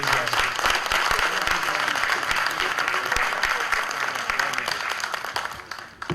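An audience at a business tech talk on AI gives a round of applause for a presenter, steady dense clapping with sharp individual claps standing out, fading slightly at the end.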